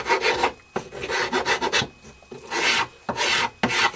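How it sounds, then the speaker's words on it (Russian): A hand file rasps across a wooden spatula in several separate scraping strokes, each a close, gritty burst with short pauses between, and no talk. "снять, подровнять как раз напильником, удобно"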